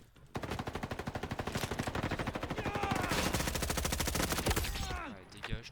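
Rapid automatic gunfire in the Roblox shooter Frontlines rattles out in a long, steady, loud burst of evenly spaced shots, tapering off near the end with a few scattered sounds.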